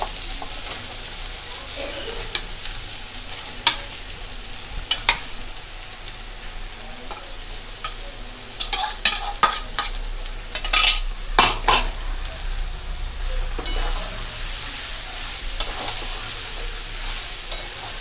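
Soybean mince with turmeric powder sizzles in a pan while a spatula scrapes and clatters against the metal in bursts, with the frying hiss running steadily underneath throughout.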